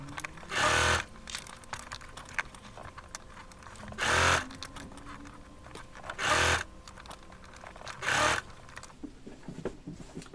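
A sewing machine runs in four short bursts a couple of seconds apart while stitching a circular seam in fabric scraps, stopping and starting between runs, close and clear against a quiet room.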